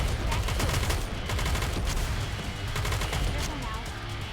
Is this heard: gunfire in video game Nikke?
yes